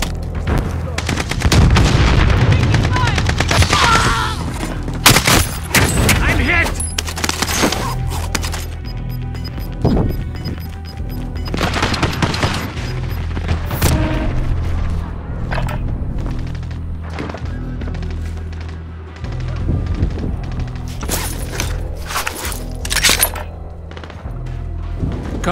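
Volleys of video-game gunfire in a battle: repeated sharp cracks and heavy booms come in clusters and bursts across the whole stretch, loud and close, with layered rumbling between shots.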